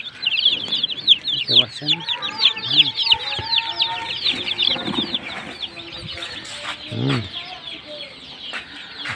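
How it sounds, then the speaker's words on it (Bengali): Desi chicken chicks on a netted rooftop coop cheep and cluck continuously in high, rapid chirps, with wing flaps and occasional deeper clucks from nearby hens, while someone speaks briefly. "এই যে এগুলো হচ্ছে দেশি মুরগির বাচ্চা।"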